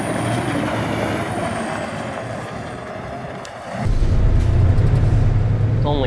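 A 2009 Kenworth T800 truck with an Eaton UltraShift 10 automatic transmission idles with a loud, steady rumble. Partway through, the engine note jumps to a heavier, louder drone, and a brief hiss comes near the end.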